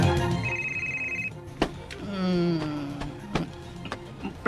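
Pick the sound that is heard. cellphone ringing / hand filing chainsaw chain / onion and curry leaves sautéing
cellphone ringing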